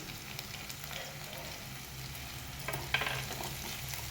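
Ginger garlic paste with chopped green chilli and curry leaves being sautéed in a pan, giving a steady soft sizzle with light stirring scrapes, fairly quiet and continuous, with no talking.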